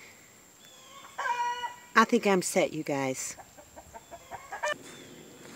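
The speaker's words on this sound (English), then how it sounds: "The chickens are out getting some grub." Chickens cluck and call outdoors on a small homestead, a series of close, varied squawks and clucks that grows busier midway, with a person briefly talking over them.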